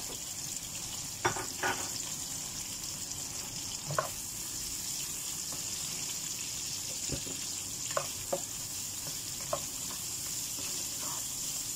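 Ginger frying in a pan for egg sarsiado makes a steady, soft sizzle with scattered faint pops and light clinks.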